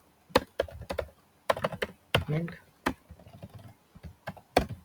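Computer keyboard typing while React code is written, irregular clusters of crisp key taps near the mic, with brief pauses between bursts.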